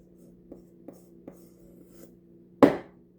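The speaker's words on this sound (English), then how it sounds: "You take your handy dandy knife and you gently scrape off the excess." A handy knife scrapes excess flour off a measuring cup for banana bread: a few soft taps, then one short, sharp scrape near the end over a low, steady hum.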